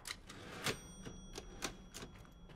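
Typewriter keys in the Resident Evil Village video game clack in a quick irregular run of sharp strikes, several crisp taps spread over a faint noisy background, fairly quiet overall.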